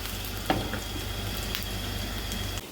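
Green chillies and potatoes sizzling in a hot pan for chilli potato, a constant close frying hiss with a brief stirring knock early on and no talk.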